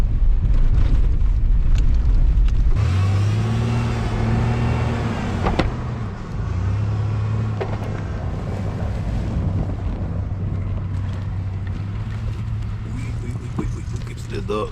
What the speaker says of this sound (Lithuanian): mes keliais važiuojam